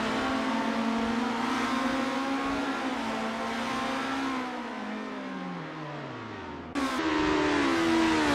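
Race cars lap the Las Vegas track in the Assetto Corsa sim, one engine droning steadily and then dropping in pitch as it eases off before a quick gearshift and a fresh climb in revs.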